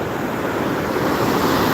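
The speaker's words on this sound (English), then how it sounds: "Oh dude, there's heaps of water coming out of there." Heavy rushing water pours out beside a river fish ladder on a foggy morning, a dense steady roar filling the whole clip, loud and close with no voices.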